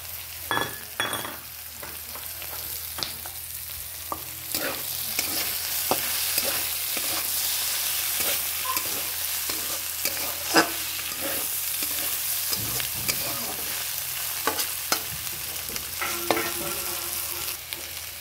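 Chopped onions sizzle steadily in a hot pan, with repeated scraping and clinking of a spoon stirring through them. No one speaks.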